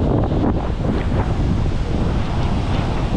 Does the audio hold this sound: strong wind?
yes